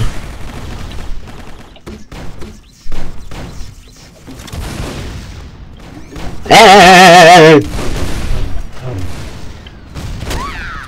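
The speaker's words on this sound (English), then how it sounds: "machine gun" In the MicroVolts shooter game, a loud machine gun fires a rapid burst of about a second, set among scattered thumps and softer game noises.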